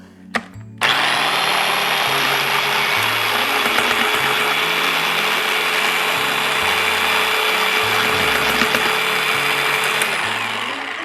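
A blender grinds mushroom stuffing with clam juice into a full purée, a loud, steady whirring motor that runs continuously for about ten seconds after a short start, with slight pitch shifts as the mixture loosens.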